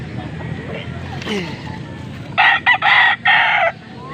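Gamefowl roosters of the sweater breed crow loudly in a backyard setting, a burst of bright repeated calls with brief breaks, over soft clucking and murmuring voices in the background.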